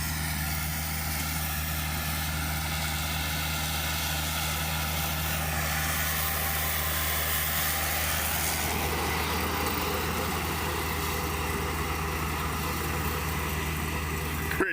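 A small tractor pulling a Tar River drum mower through hay, a steady droning engine hum with a constant low whir that runs unbroken from start to finish, no voices.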